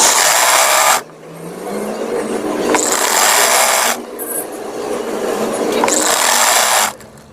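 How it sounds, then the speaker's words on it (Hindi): Sewing machine stitching the neckline of a kurti, running in three steady, loud bursts of motor whir separated by short pauses, close and alone with no talk. "चलिए इसे सिलाई कर लेते हैं।"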